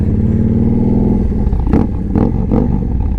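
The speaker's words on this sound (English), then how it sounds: "Just 2 little straight pipes firing right into the ground. They sound crazy too." A 2015 Victory Vegas 8-Ball motorcycle revs loudly through two short straight pipes aimed at the ground: a deep, steady idle rumble broken by three sharp throttle blips close by.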